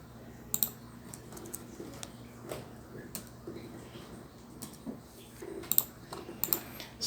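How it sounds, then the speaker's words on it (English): Typing on a computer keyboard in a networking lab, a steady stream of soft key clicks with a few sharper taps, close by under faint room noise. "I'm typing first."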